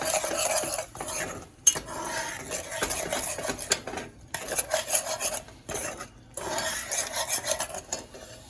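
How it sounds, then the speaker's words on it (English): A spoon works through a yellow rice mixture seasoned with Goya sazon with achiote in a pot, giving steady scraping and clinking strokes against the metal with brief pauses, close and fairly loud, no voices. "you're going to go ahead and mix all this up so that the flavors can start toasting up"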